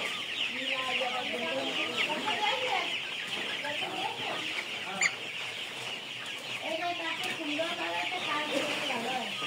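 On a farm, a flock of Tiger breed chickens keeps up dense, overlapping clucking and murmuring throughout, close and fairly loud, with a person talking beneath the birds.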